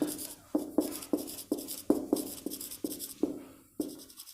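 Pen or marker writing numbers on a board during a logarithms lesson, a close run of about ten sharp, evenly spaced strokes and taps, with no talking.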